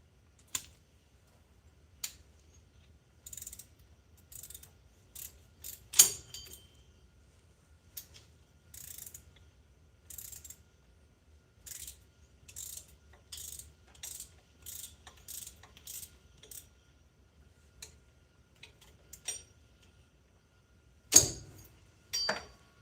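A ratchet tightens bolts in a home garage after a pump install, giving short bursts of clicking strokes repeated at intervals through the stretch, with a couple of louder knocks and clanks, and no speech.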